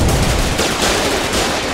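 Dense, continuous gunfire from the war video game Foxhole, loud and rapid throughout with overlapping shots forming a sustained barrage and no voices over it.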